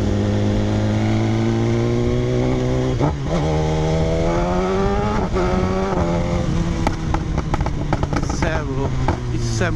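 A customized 2019 BMW S1000 motorcycle with a quickshifter revs up and shifts gears without the clutch. The engine note climbs, then drops sharply at each quick upshift, close and loud through the ride.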